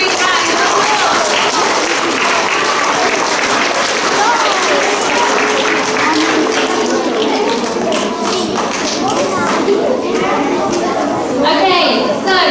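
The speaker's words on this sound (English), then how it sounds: "Let's give all of our Stars of the Week a big round of applause." Sustained applause fills a school assembly hall for pupils named Stars of the Week, with dense, even clapping from many hands throughout, fairly loud and close, and a little chatter mixed in.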